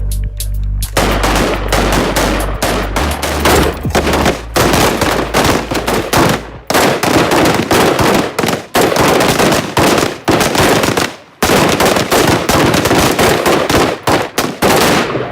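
SWAT team officers firing at a shooting range: loud, dense volleys of rapid gunfire in long bursts with brief gaps between strings, close and overpowering, with no talk.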